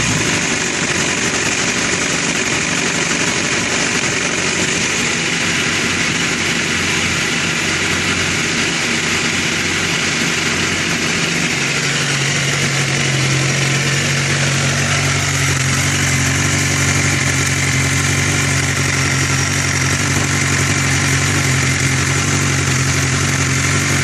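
A BMW S1000RR sport bike engine runs steadily at idle, a loud, buzzy, continuous drone close by that settles into a lower, steadier tone about halfway through, with no talk over it.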